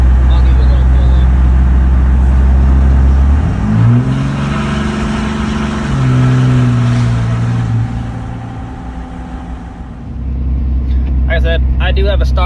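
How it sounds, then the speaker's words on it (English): A diesel truck with a stock turbo pulls on a wet road with the exhaust brake in use, its engine rising and falling in a loud, close drone, then tapering off near the end. "A little bit of the exhaust brake."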